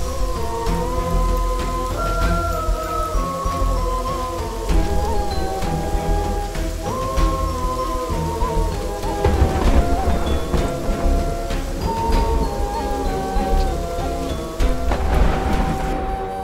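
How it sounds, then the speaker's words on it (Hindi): Heavy rain pours steadily with gusts of wind and low rumbling, a dense, loud storm wash that continues without a break. "तूफान आया है ना"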